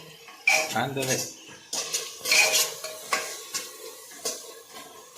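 Tomatoes tipped into a metal pot for biryani and stirred, with a spoon clattering and scraping against the pot in repeated strokes and a soft sizzle underneath, close and fairly loud.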